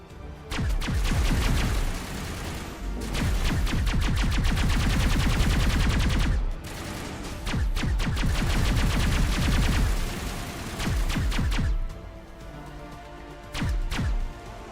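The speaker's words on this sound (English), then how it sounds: "I am liking the Geth pulse rifle." Geth pulse rifle fire in Mass Effect comes in loud, rapid bursts of several seconds each, separated by short pauses.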